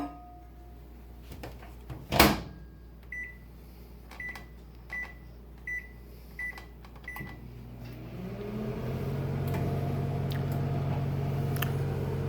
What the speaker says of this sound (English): we need to microwave for a little bit more to keep it on the same power level